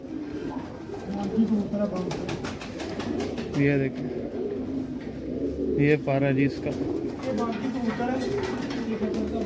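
A teddy pigeon coos softly in a few short bursts while someone talks nearby.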